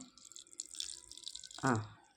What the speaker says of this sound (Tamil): இப்போ எந்த டம்ளரில் நம்ம அரிசி எடுத்தோமோ அதில் ஒரு 1/4 டம்ளருக்கும் குறைவாகத்தான் இந்த மிக்ஸி ஜாரில் நான் விட போகிறேன்.